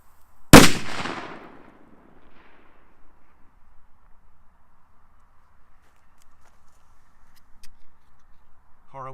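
A Horror 1 Panzer Blitz firecracker goes off outdoors with one sharp, loud bang, followed by a fading echo and then near silence with faint distant sounds.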